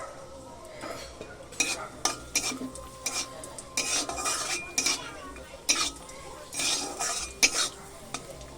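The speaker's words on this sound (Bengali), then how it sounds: "অল্প কটা কাজু কিশমিশ আছে এ কটাও ভেজে নেব" Cashews and raisins fry in a pan with a soft sizzle under repeated sharp scrapes and clinks of a spoon stirring against the metal, close and uneven, with no talking.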